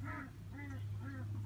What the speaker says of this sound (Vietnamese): tiếng kêu vịt nghe các bạn thấy không?